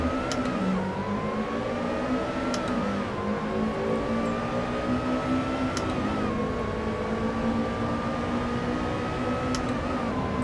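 Lotus race car engines howling at the start of a race at Monza in Assetto Corsa, a steady loud drone that climbs through the gears with brief dips at each upshift and no voices.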